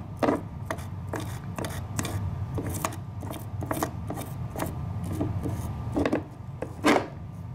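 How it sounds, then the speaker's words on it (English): Brushing residue off a Hot Wheels custom die-cast car produces a steady run of scratchy bristle strokes and light clicks, close up and fairly quiet, with irregular bursts of scraping. "I'm just gonna try to brush off as much as I can without touching it."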